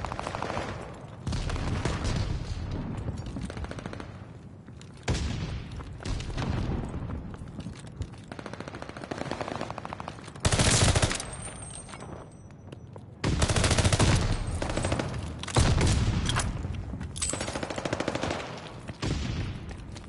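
Automatic gunfire in Call of Duty Vanguard ranked play, loud sustained bursts of rapid fire with brief pauses and heavier blasts, with almost no talk over it.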